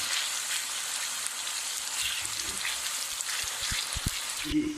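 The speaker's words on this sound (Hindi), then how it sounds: "ऑयल ले लिया है और ये फाइनली प्याज इसमें हम अब डाल के इसको लाइट गुलाबी कर लेंगे" Onions sizzle in hot oil in a pan over a high flame, with a dense, continuous frying hiss and scattered crackling pops close up.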